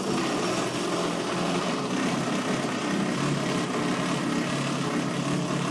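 Small gas engines run continuously to power a gaming PC, giving a steady, buzzy drone at moderate loudness with no speech.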